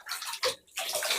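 Water splashes and pours over a cat during a bath in a tub, coming in two or three quick close bursts with short gaps between them and no talking.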